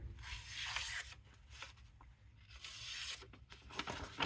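Paper is sliced by a freshly sharpened axe held in a jig, with soft, rasping swipes in a few separate strokes, close and quiet, with no talking.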